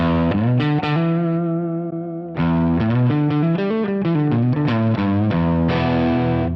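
A distorted electric guitar on the neck pickup plays sustained chords with a full, warm tone, loud and alone, with a brief drop before the chords resume.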